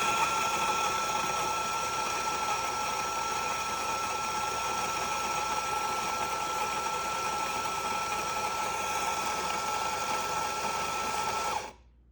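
An electric coffee grinder grinds Kirkland organic single-origin Peru whole beans: a steady, high-pitched whirring buzz runs unbroken at close range for about eleven seconds, then cuts off abruptly.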